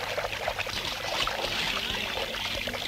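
Water pours and trickles into a pot or metal water pot, a steady splashing stream running close by and unbroken, with no voices over it.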